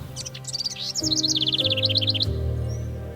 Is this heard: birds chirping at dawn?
yes